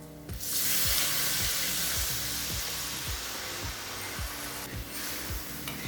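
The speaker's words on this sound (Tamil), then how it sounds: "ஒரு எலுமிச்சை அளவு புளியை தேவையான அளவு தண்ணியில் கரைச்சி இதில் சேர்த்துக்கலாம்." Tamarind water poured into a hot pan of sautéed spices for garlic-pepper kuzhambu, a loud steady sizzle and hiss with bubbling and light stirring clicks throughout, no talk.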